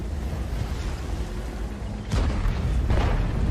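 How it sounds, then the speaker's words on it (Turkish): An IS-7 tank cannon in World of Tanks fires a shell, a single heavy boom cutting through the rumbling engine and battle ambience, followed by a second, softer report a moment later. "Tamam attım mermiyi"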